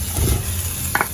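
Mango pieces go into hot chili powder in a pan, giving a soft sizzle with brief scraping stir sounds and a short sharper clink near the end.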